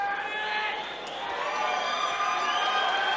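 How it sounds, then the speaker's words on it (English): Crowd at an amateur lightweight MMA cage fight cheers and whoops after the bout, a loud sustained roar with high shouts rising again toward the end. "Listen to that crowd,"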